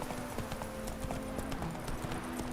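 Roach the horse canters in The Witcher 3: Wild Hunt, giving quick, even clip-clop hoofbeats over a steady wash of game ambience, fairly faint with no voices.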